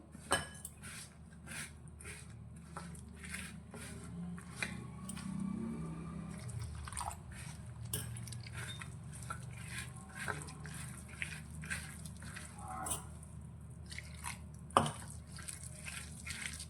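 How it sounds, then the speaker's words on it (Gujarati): Wheat flour batter for fritters being mixed by hand with water added bit by bit, giving soft wet squishes and drips with light clinks of a bowl or utensil throughout, close and steady with no talk. "પાણી આપણે થોડું થોડું ઉમેરતા જઈ અને મિક્સ કરીશું"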